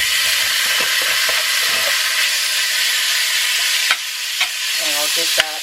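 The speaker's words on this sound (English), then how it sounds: "I'm gonna go ahead and add my bacon in." Bacon fries in a warmed pot on the stove with a loud, steady hiss and sizzle, and a few spatters and clinks near the end.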